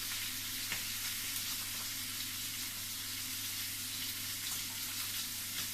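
Steady sizzling and crackling of onions in a dry pan without oil on the heat, continuous and close, with a faint stirring scrape now and then.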